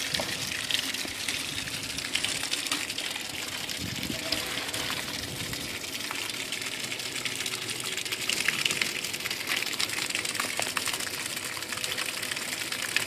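A self-contained automatic bilge pump on a Hobie Outback kayak pushes water over the side in a steady, loud gushing stream with a faint mechanical hum underneath.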